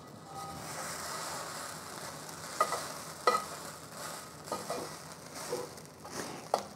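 Chow mein noodles fry in oil in a pan, giving a faint, steady sizzle with a few sharp clicks and taps from the pan or utensils.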